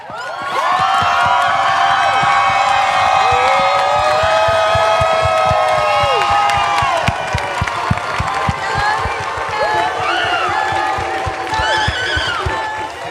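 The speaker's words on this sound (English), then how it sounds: "can y'all please give the loudest round of applause for our champion, Joan Sato." A youth poetry slam finals crowd roars for the champion with loud sustained applause, cheers and high whoops, a dense, continuous wall of noise with shrill shouts rising above it.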